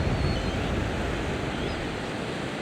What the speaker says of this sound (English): the creek's flowing right along through here